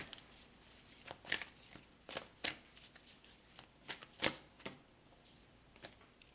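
Oracle cards being shuffled and drawn, a series of soft crisp riffles and flicks in irregular bursts, close and quiet, with no voices.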